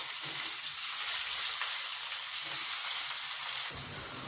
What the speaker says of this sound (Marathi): कढीपत्त्याची पाच सहा पानं एक मोटा कांदा फुबा चिरून घेतलेला छान परतवून घ्यायचा आहे गुलाबीसर रंगावर